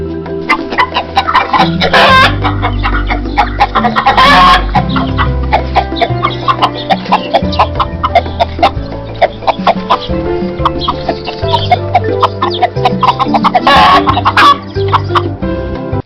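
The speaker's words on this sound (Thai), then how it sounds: "แม่ไก่อือ ก็ให้กำเนิดลูกไก่ถึงเจ็ดตัวด้วยกัน" A hen with her seven newly hatched chicks clucks repeatedly, close and loud, in a busy, continuous stream of farmyard chicken calls.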